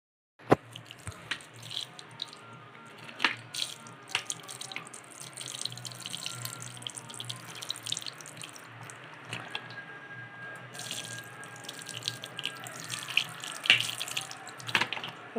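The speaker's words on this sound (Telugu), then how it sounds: "ఇలా వాటర్ పోసుకొని నానబెట్టుకోవాలి." Tap water runs steadily into a bowl to soak moong dal, a continuous splashing flow with scattered clinks and drips, close and moderately loud, with no talking.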